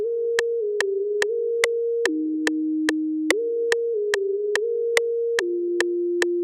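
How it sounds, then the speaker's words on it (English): A pure sine-tone synth lead plays a stepping melody of evenly spaced notes, with a long wash of reverb trailing behind, loud and alone. "Lead synth, simple sine."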